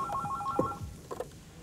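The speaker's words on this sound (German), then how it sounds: "Wieso klingelt das Telefon jetzt?" A telephone rings in a 1995 German TV comedy show, a couple of short electronic trilling bursts close by, with no talk over them.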